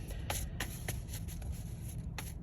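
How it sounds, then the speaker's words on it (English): A deck of tarot cards is shuffled close up, with quiet, crisp riffling bursts repeating at a quick, uneven pace over a faint low background hum. "one more shuffle and I'm gonna pull from the back."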